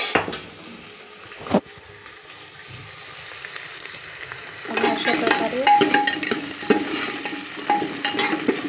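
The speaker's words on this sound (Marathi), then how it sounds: "कांदा अगोदर फ्राय करायला टाकलेला आहे शेंगदाणे कांदे अगोदरच टाकलेले आहे मी त्याच्यामध्ये फ्राय करायला" Onion and peanuts sizzle in oil inside a pressure cooker, quiet at first, then stirred louder from about five seconds on with scraping and clinking against the pot, steady frying hiss throughout.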